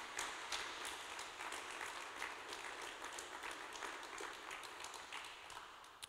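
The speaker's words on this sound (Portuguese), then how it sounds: "Uma salva de palmas para Jesus" A church congregation at a Thursday service breaks into steady applause for Jesus, the even crowd clapping heard faintly from a distance throughout.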